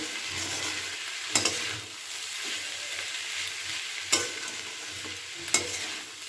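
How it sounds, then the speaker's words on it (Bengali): Ivy gourd (kundri) slices stir-fried with spices in a pan, a steady hiss of sizzling oil broken by a few sharp clinks and scrapes of the spatula, close and fairly soft, with no voices. "আমি এটাকে লাল লাল করে এবার ভাজা ভাজা করে নেব"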